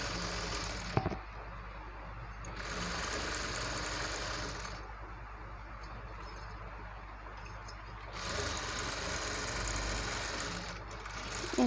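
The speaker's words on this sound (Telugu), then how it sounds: "అలా అన్న తర్వాత ఓన్లీ క్యాన్నే ఇలా స్టిచ్ చేయాలి." A sewing machine stitching a can-can lehenga petticoat hums in continuous rapid runs, close and steady, with a brief clack near the start and short pauses between runs.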